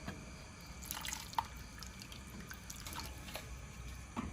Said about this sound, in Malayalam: നമുക്കിനി ഇതിലോട്ട് ഇതിൻ്റെ ഗ്രേവി ആദ്യം അങ്ങോട്ട് ഒഴിച്ചു കൊടുക്കാം.